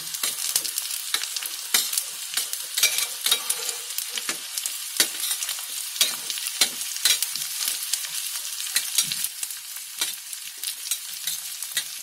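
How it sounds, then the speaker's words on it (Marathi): Onion, green chili and curry leaves frying in oil for an egg and vegetable breakfast dish, giving a steady close sizzle broken by frequent sharp stirring scrapes and clicks that continue throughout with no talk. "कांदा, मिरची, कढीपत्ता चांगली अशी फ्राय करून घ्यायची"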